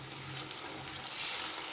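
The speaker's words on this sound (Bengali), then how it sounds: "দেখুন আমি দুটো দুটো করে ভাজছি ভেজে লাল করে তুলবো" Steady hiss and crackle of fish pieces frying two at a time in hot oil, close and continuous, swelling slightly louder toward the end.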